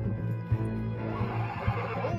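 A horse in the video game Red Dead Redemption 2 gives a loud, close whinny that fills the short moment, with a few dull hoof thuds underneath.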